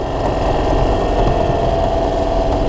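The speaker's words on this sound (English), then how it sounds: "So, you guys want to do a cold start on a tractor?" A 1993 Club Car DS golf cart engine running steadily after a cold start, a loud continuous low mechanical drone with idle vibration, alone with no voices.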